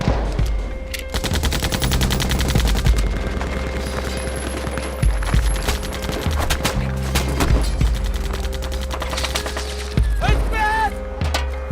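Gunfire in a Kuwaiti war film about the resistance during the Iraqi invasion: rapid, loud bursts of automatic fire rattle continuously for several seconds, with voices briefly heard near the end.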